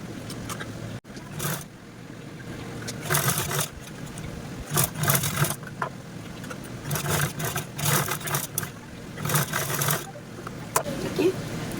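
A sewing machine stitches the edges of a cloth wallet pocket in several short bursts of fast whirring, each a few seconds long, separated by quiet pauses and close to the microphone.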